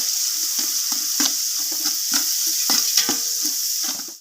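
Biryani masala for green chicken biryani fries in a pan with a steady, close sizzle, broken by repeated scraping stirs that come at a fairly even rhythm throughout, with no voices.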